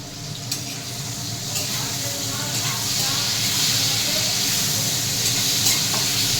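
Food sizzles and spits while frying in a pan and is stirred steadily throughout, a dense continuous hiss with scattered scraping clicks from the spoon; no one speaks.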